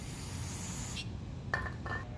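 A part from a stalled weedeater gets sprayed off for cleaning: a steady hiss runs for about a second, then cuts out, followed by a couple of short squirts and light rubbing sounds, close and fairly quiet.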